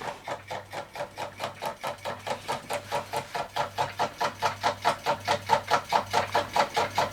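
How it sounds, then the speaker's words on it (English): Small half beam electromagnet engine running steadily, a fast even clatter of about four beats per second with a low hum beneath, close and alone. "I really do love these little electromagnet engines."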